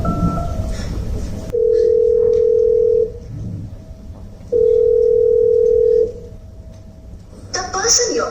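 A phone ringback tone during a stage play sounds in two long, steady beeps separated by a pause, with some speech before and a brief sound after.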